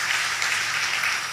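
A church congregation at a general worship service applauds. The clapping is dense and continuous, loud and close, and fills the whole short stretch.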